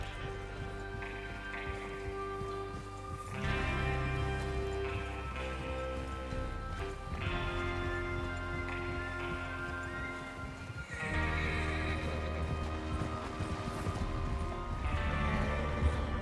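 Horses neigh and whinny over the Red Dead Redemption 2 soundtrack, with clip-clop hoofbeats and occasional crashes; no speech, moderately quiet overall.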